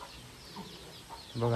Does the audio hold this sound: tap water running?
no